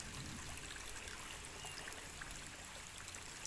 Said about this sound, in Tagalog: dito may tubig na umaagos sa ibabaw niya